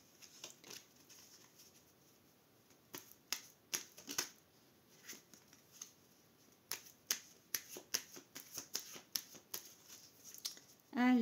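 Oracle cards are cut and shuffled close up, giving a long run of crisp riffling snaps and flicks that come in uneven bursts and grow busier toward the end.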